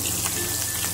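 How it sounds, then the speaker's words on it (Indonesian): Pounded spice paste sautés in oil left over from frying potatoes and tempeh, giving a dense, even, close sizzle with a fine crackling hiss. "Sekarang akan saya tumis ini ya, bumbu yang saya tumbuk tadi."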